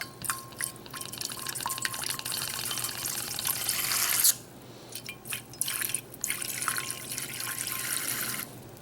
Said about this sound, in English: let's go ahead and get all these orifices flushed out